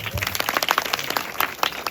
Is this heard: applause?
yes